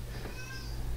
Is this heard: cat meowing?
yes